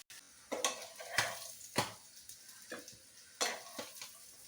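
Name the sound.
fish frying in a pan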